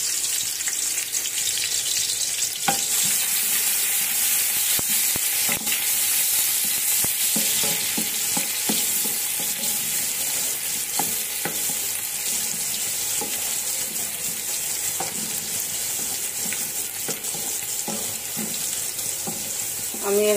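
Onions fry in oil for a home-cooked biryani, making a continuous loud hiss with frequent sharp crackles and scattered stirring clicks close by for a long stretch.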